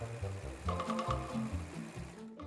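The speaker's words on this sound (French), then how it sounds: "vous pouvez utiliser le point zigzag de votre machine à coudre" A domestic sewing machine runs a zigzag stitch to overcast the edges of broderie anglaise fabric panels. It gives a close, steady rapid chugging with a fast mechanical rhythm, and the motor stops at the end.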